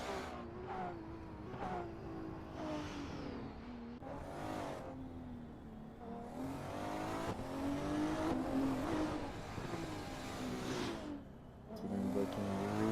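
Race cars at the SRA Race of Champions rev and accelerate through short gears, engine notes rising and dropping repeatedly with rapid shifts as they pass close and loud, with no talking.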